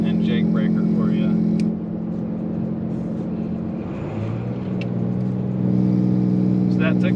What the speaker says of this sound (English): I'll see if I can get a higher RPM downshift and jake breaker for you.